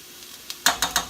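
A tablespoon of garlic and chopped onion in olive oil, sizzling faintly in a pan and then stirred, with four quick, rhythmic utensil scrapes and clacks.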